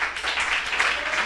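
Congregation applauding during a Portuguese-language church sermon: a steady, dense wash of many hands clapping together, fairly close and continuous throughout.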